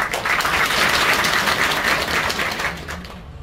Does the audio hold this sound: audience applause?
yes